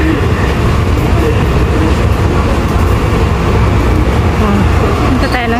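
A train waiting at a station on the route to Sunny Bay gives a steady, loud rumble and hum throughout, with a faint squeal near the end and voices murmuring underneath.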